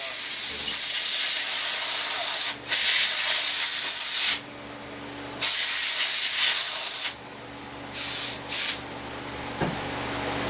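Compressed air blasting grit residue off sandblasted AR rifle parts, loud hissing spray bursts of a few seconds each, cut off abruptly, then two short quick puffs.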